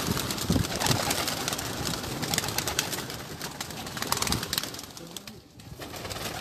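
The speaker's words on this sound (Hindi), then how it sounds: "ये सारे प्रवासी कबूतर हैं" Migratory pigeons cooing softly in a flock, with repeated low coos and faint wing flutters against steady background noise and an occasional distant voice.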